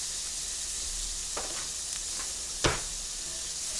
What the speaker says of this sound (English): going to stir in our garlic till it's fragrant